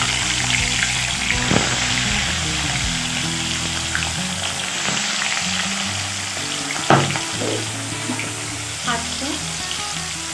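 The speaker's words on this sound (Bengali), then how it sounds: "একটু আস্তে করে দিয়ে মাছটা ভাজতে হবে।" Pieces of hilsa fish fry in hot oil with a steady hiss and a few scattered clatters and scrapes, close by, with a brief word spoken partway through.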